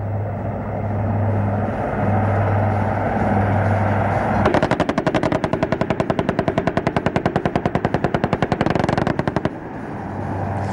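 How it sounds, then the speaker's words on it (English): Helicopter-mounted 20mm turret guns open up after a steady aircraft drone, firing a long, rapid, evenly spaced burst of loud shots that runs several seconds before stopping, with the rotor hum continuing underneath. "Did you hear the gunfire?"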